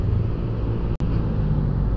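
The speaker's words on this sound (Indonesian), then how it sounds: "beginilah keadaannya kalau truk-truk besar sudah pada keluar Pantura teman-teman" Dense Sunday traffic on the Pantura road with big trucks, a loud, continuous close-up engine rumble that cuts out for a moment midway.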